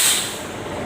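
Brief close burst of hissing air as a car's brake line is bled at the right wheel, strongest at the start and tapering off within a second.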